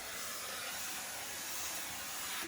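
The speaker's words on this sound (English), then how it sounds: "give the whole piece a quick steam press to set everything in place" A steam press hisses over sewn quilted fabric for a laptop sleeve, one steady close burst of broadband steam that cuts off abruptly at the end.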